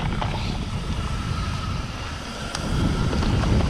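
Wind roars past a mountain bike rider on a trail at Maryvale Pines MTB Park, a loud, constant buffeting rush that swells toward the end.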